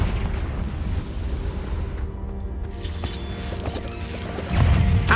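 A Confringo fire spell bursts in Hogwarts Legacy with a booming blast over a dense, rumbling game soundscape, followed by a second heavy impact at the end; loud and continuous.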